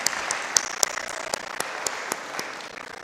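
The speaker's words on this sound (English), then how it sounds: "Folks, let's give a big round of applause to these ladies." Scattered, fairly distant applause at a Grade 12 graduation ceremony at Khalsa School of BC, with individual claps standing out from the crowd and no speech over it.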